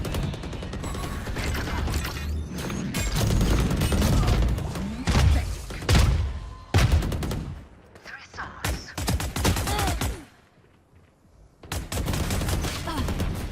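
Video game gunfire pours out in dense, loud bursts of rapid shots and automatic fire, broken by short gaps and a near-silent pause before shooting resumes.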